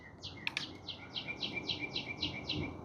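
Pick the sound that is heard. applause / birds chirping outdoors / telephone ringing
birds chirping outdoors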